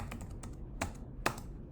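Command typed on a computer keyboard: a handful of sharp, close key clicks in an uneven rhythm, with two louder strikes standing out, and no talk.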